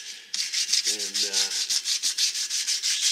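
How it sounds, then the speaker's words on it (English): Rhythmic hand sanding on a chrome mag wheel, steady back-and-forth rasping strokes close up, with a brief low hum early on and a single spoken word. "Doing a little bit of sanding here to take the glaze off the chrome"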